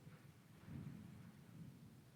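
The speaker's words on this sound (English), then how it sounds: "that is the rain and thunder" Rain and thunder during a hurricane, with a low, rolling thunder rumble swelling under a steady hiss of rain, faint and distant, no voices.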